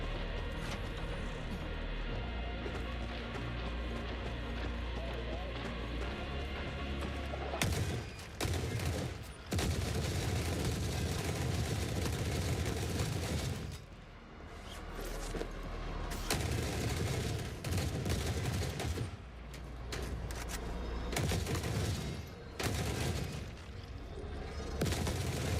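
Heavy combat in Forever Winter with shotgun blasts: dense, loud, almost continuous booming fire and rattling bursts, broken by brief gaps, with no voices over it.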